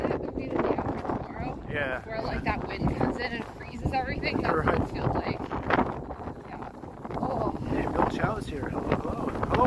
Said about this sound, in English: This is like a flash freeze wind